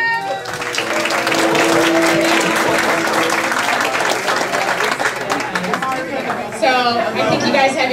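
An audience claps and cheers loudly and continuously to vote between band name options at a live show, with crowd chatter mixed in and a fresh burst of applause near the end.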